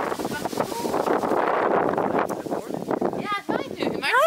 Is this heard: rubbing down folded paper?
no